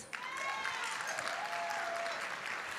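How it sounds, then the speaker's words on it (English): An audience at a debutante cotillion gala applauds to welcome the evening's chairman, a full, steady burst of clapping from a large crowd with a faint voice and tonal sounds drifting underneath. "Give her a big round of applause."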